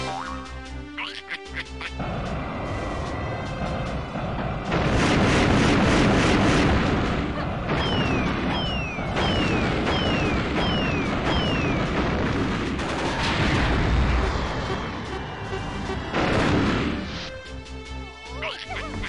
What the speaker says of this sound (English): I always loved that missile.